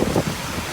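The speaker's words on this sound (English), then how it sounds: "So that's how much it rains here in East Texas" Heavy wind-driven rain pours down in East Texas, a loud, dense rushing wash with gusty buffeting on the microphone.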